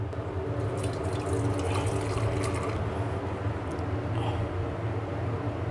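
Frothy lemon and mint juice blended with mint leaves and whipped cream pours in a steady, continuous liquid stream, close and even throughout.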